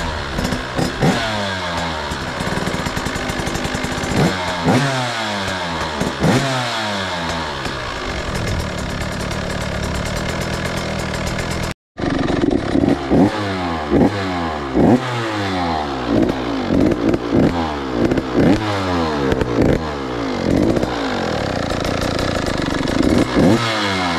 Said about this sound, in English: I'm using my golf cart is a footrest so I can kickstart it without tipping over.